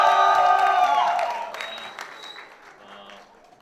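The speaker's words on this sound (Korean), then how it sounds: "다 같이 함께 큰 박수로 맞이해주세요" An audience at a Christian testimony gathering welcomes a young speaker with clapping and a few cheers over music and voices, the applause dying away after a couple of seconds.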